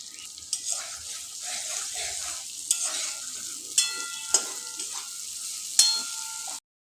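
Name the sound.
stirring turmeric and coriander powder frying in a pan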